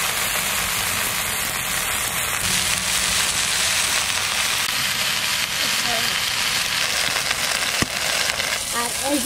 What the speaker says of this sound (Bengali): তেজপাতা, শুকনো লঙ্কা আর জিরে একসঙ্গে তেলের মধ্যে ফোড়ন দিয়ে কচুটা চাপাই